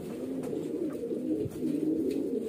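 A highflyer pigeon coos softly and repeatedly in low, rolling phrases, close by, over a faint steady background with no talking.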